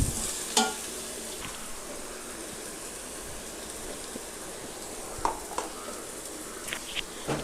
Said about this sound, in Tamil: மிளகாத்தூள், மல்லித்தூள், எல்லாத்தையும் நல்லா வதக்கிக்கலாம்.